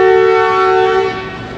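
The 122 Down Ravi Express pulls out of a station with a loud, sustained horn blast of steady tones that fades slightly near the end, with no voices.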